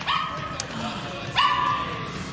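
A small dog in a film scene gives two sharp yipping barks, each trailing into a whine, close and loud, with people talking around it.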